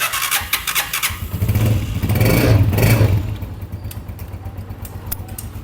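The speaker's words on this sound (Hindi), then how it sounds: "अब बाइक को स्टार्ट करने लगे हैं।" A freshly rebuilt Honda CG125 motorcycle engine cranks and catches, revving up loudly for a few seconds before settling into a steady, rumbling idle.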